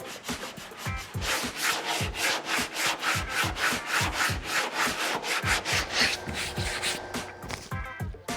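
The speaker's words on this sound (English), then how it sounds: "I've got this shaped using 36 grit on a block" Body filler being shaped on a classic Camaro fender flare with 36-grit paper on a sanding block, a steady run of loud, rhythmic back-and-forth rasping strokes close up, with no talking.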